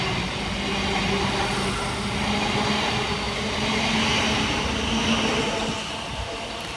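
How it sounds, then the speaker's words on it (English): Two coupled Southeastern Class 707 electric trains, 707013 and 707001, roll into Lower Sydenham station on the Hayes line with a steady broadband rumble and wheel rush that swells and then eases, fairly loud and close, with no talking. "kicking us off is 707013 and 707001 with the 1600 Southeastern service from Hayes through to London Charing Cross"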